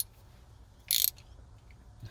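A socket ratchet loosens console bolts inside a 2017 GMC Sierra, giving one short, bright burst of clicking near the middle, with faint handling noise after it in an otherwise quiet cab.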